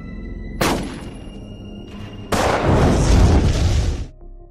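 Explosion in a zombie film: a sharp blast followed by a second, longer roaring detonation with heavy low rumble that fades out after a few seconds.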